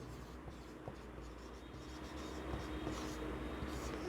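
Chalk or marker scratches on a board during a Class 10 maths lesson on polynomials, soft intermittent strokes over a steady background hiss, close and without speech.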